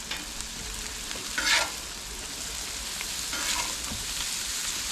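Burgers sizzling on a grill out on a back deck, a continuous broad hiss with a couple of brief louder flares and faint scraping as patties are flipped, no talking.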